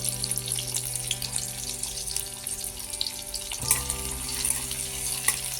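Grated coconut fries gently in hot oil for vegetable chops, giving a faint, steady sizzle with scattered small crackles under a low background hum.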